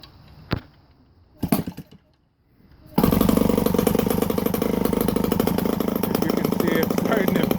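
Kawasaki 3.15 engine with RCELX ignition: a few quiet knocks and pulls, then it fires abruptly and runs loud and steady with a rough, buzzing drone until the end.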